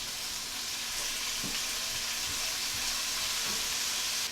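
Shallot fries in a hot pan, giving a steady close sizzle with soft crackles and occasional light stirring knocks, no voices over it.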